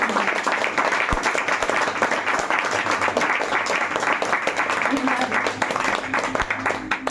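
A congregation at a special church meeting claps for itself, dense sustained applause filling the room throughout, with a voice speaking over the clapping.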